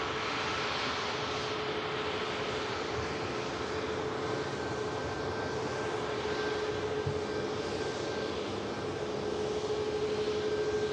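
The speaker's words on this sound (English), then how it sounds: "the beautiful Malta Air on the taxi." Malta Air jet, a Ryanair subsidiary, taxiing at Manchester Airport, a steady broadband engine roar with a faint sustained whine, constant and moderately distant throughout with no voices.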